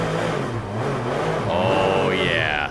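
Porsche GT3 Cup race car engine on a public road in Germany, a rough low mid-range engine note rising as it revs, partly under a person talking.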